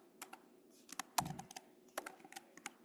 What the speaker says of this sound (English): I'm just typing in the chat.